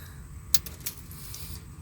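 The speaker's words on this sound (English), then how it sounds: "I should have known I was going to need wire strippers to cut that off." Wire strippers snip through an electrical wire while an AC heat pump contactor is being replaced, giving two sharp, close metallic clicks about a third of a second apart over a low, steady background hum.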